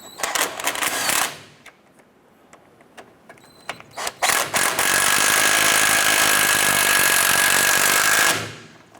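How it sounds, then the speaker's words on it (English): Sway bar bushing bolts on a 1994-2004 Chevrolet S10 are tightened with a tool: a scatter of sharp clicks and taps, then a loud, steady mechanical whir of a few seconds that stops abruptly, close up with no talking. "Go ahead and tighten down our bolts here."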